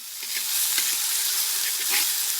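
Chopped onions and tomatoes sizzle steadily in a hot pan, a continuous bright frying hiss with soft stirring scrapes and small pops throughout.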